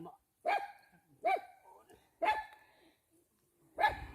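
A dog barks four times in a slow, evenly spaced series near rice fields, each bark sharp and fairly close, with quiet gaps between them.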